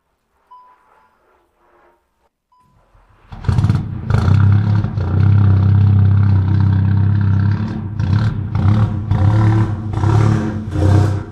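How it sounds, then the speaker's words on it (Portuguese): A damaged Volkswagen Golf 7 GTI engine starts up after a few faint clicks and near-silence, then runs loud and steady with a deep rumbling idle and slight swells in revs, with no voices. "O motor também soava bem, sem sons estranhos"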